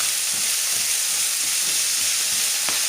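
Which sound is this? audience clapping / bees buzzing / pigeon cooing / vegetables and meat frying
vegetables and meat frying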